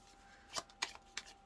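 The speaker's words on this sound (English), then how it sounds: "Let's shuffle these a little bit." Tarot cards being shuffled by hand, three quick riffling bursts spaced apart at close range, with no talk over them.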